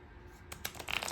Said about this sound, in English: let's grab a couple of these cards and take a look at the shuffle